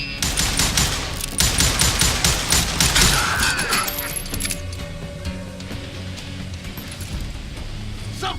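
Rapid bursts of gunfire ring out in the Western shooter Call of Juarez Gunslinger. Dense, loud volleys of shots come first, then thin out to scattered reports and a few metallic clinks.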